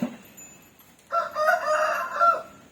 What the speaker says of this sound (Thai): ไก่ขึ้นบ้านเต็มแล้วเร็วๆไปไล่ไก่แล้ว